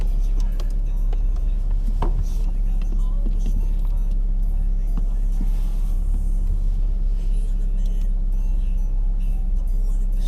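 A stock 2015 Scion FR-S driving: steady, loud road and engine rumble fills the cabin throughout with no break, a few faint clicks and knocks under it.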